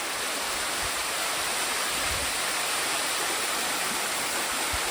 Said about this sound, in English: Got all the water coming out of the lake.